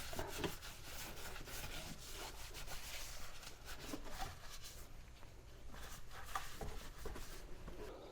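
A wet cloth rubs and wipes cleaner off the frame of a C3 Corvette, producing continuous close, soft scrubbing and swishing with a few brief louder strokes.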